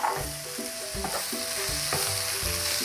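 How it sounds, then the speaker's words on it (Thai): Glass noodles stir-fried with wilted vegetables in a pan for a Thai noodle dish, giving a steady close sizzle with repeated stirring scrapes and a faint tonal melody running underneath. "เราก็จะผัดวุ้นเส้นนะคะ"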